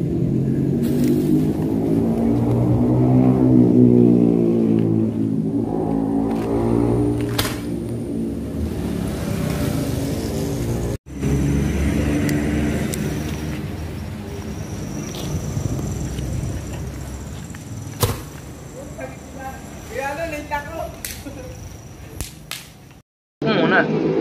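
Star mine firework test with stars made from sawdust charcoal, giving a few sharp cracks and bursts over a steady rumbling background, with people talking at times.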